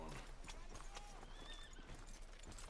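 Horse hooves clip-clop in Red Dead Redemption 2, a steady run of soft, even hoof beats under a constant bed of game ambience and music, fairly quiet and unhurried.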